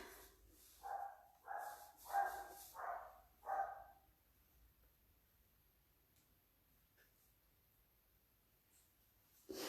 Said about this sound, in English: My dogs are barking in there